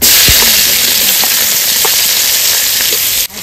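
Bay leaf, whole cumin and chopped onion hit hot oil left from frying fish, giving a loud, steady, close-up sizzle that hisses on without a break before cutting off abruptly near the end.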